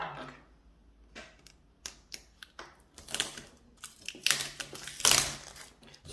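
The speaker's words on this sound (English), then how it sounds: "let me quickly remove this paper." Artist-grade cotton watercolor paper being peeled and pulled free, a series of crisp rustles and crackles that grow denser and louder toward the end, close and alone.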